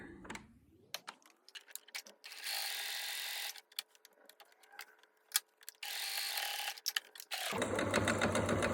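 Sewing machine stitching through pieces of felt, running in close, steady bursts of rapid mechanical clatter that start and stop several times, with short pauses between runs.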